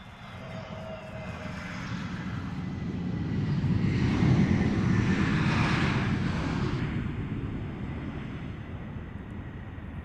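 A private plane arriving at London Luton Airport passes overhead outdoors, its engine roar swelling from distant to loud at the midpoint and then fading, with wind buffeting the microphone.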